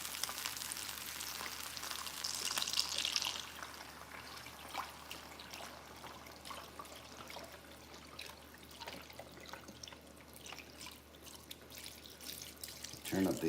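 Broth is poured into a pot holding spaghetti for a one-pot creamy chicken pasta, a brief splashing pour followed by faint trickling and drips in a quiet kitchen.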